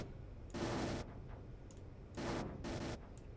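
Rifle fire in Space Engineers comes in two sustained bursts of rapid shots, each about half a second long, separated by quieter gaps with faint ticks, moderately loud with no talk.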